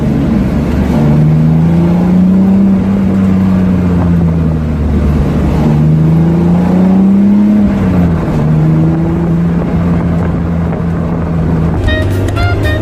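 Car interior during a drive, a loud continuous engine drone that rises and falls with throttle under heavy wind and road rumble, without talk.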